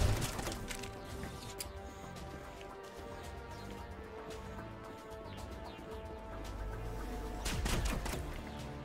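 Shotgun blasts in the video game Mass Effect, a handful of sharp, loud cracks spread across a busy combat soundscape with rumbling impacts and low background effects.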